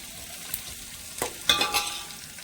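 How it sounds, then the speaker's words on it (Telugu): Onion, green chili and curry leaves fry in hot oil with soft, crackling sizzle and a few brief stirring scrapes, sharper pops near the end, no voices. "ఉల్లిపాయ పచ్చిమిరకాయ కరివేపాకు చక్కగా వేగిని"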